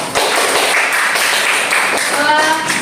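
Applause from a class of students during a practice-teaching history lesson in an Indonesian classroom, a steady patter of many hands clapping together for a few seconds.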